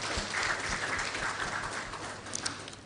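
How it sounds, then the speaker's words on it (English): Sustained audience applause at a school renewable-energy launch event, steady dense clapping throughout, loud and close, with no voices over it. "Shall we please give them a round of applause as well?"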